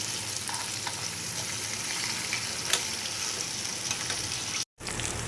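Aar fish frying in oil in a wok, a steady close sizzle and crackle that holds throughout, briefly cutting out near the end.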